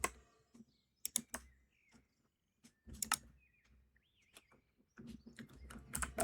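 Computer keyboard typing in clustered bursts of sharp key clicks, with short pauses between the bursts, close and fairly quiet, plus a few faint chirping sounds.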